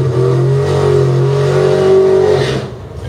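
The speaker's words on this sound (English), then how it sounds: "In the 80s collision repair lane, new dragster for Adam Phillips out of Bruceville, Indiana." A new drag racing dragster engine revs loudly at a dial-in bracket race and holds a steady, harmonically rich roar for about two seconds before cutting off abruptly.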